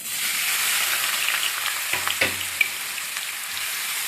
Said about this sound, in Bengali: এইবারে আমি রসুনটা দিয়ে দেবো তেলের পরে।